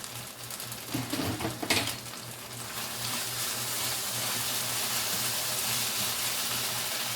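Bacon dropped back into a hot frying pan with fresh fried corn and flour, giving a steady, close crackling sizzle with a brief clatter of utensils early on, and no voices.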